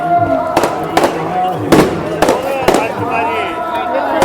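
Several sharp fireworks bangs burst at irregular intervals over a steady crowd murmur at Sri Hazur Sahib, Nanded, with faint talk and background noise throughout.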